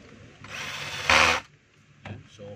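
A power drill driving two screws into a DeWalt D25133 rotary hammer during repair, a close whir that peaks in a loud burst, then a short second burst after a pause.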